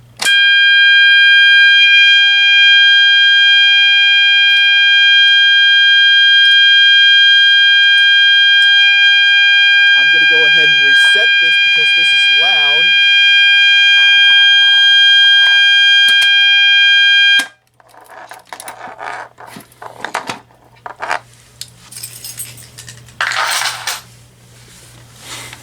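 Fire alarm activated from a pull station, a loud piercing steady electronic tone sounding close for about seventeen seconds, then cutting off, followed by faint handling noises and clatter.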